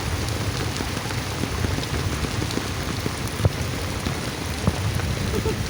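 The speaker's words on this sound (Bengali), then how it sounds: "আপনি বৃষ্টি বিলাস করছেন" Steady rain pours down in an even, close hiss of drops on surfaces, with a couple of faint sharper drips and no voices.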